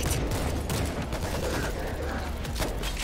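A mounted machine gun in the zombie shooter World War Z fires a dense, continuous burst of rattling shots, loud and close amid clattering mechanical noise.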